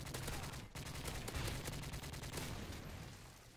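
Rapid bursts of automatic gunfire from Call of Duty MW3 rattle on without a break, dense and loud, with gameplay noise mixed underneath.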